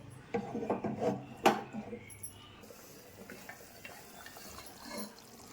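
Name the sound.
stirring fish curry with coconut milk in a pan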